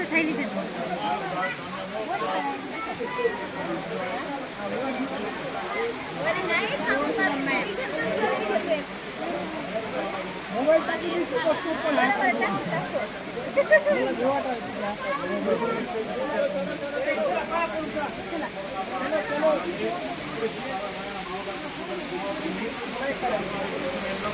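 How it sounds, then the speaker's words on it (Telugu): Continuous rushing water at the Akasaganga waterfall, a steady broadband roar that holds without letup throughout, with people talking faintly over it. "వాటర్ అయితే కంటిన్యూగా ఫ్లో అవుతూనే ఉందండి అస్సలు ఫోర్స్ కూడా తగ్గట్లేదు"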